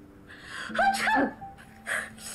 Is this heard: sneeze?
yes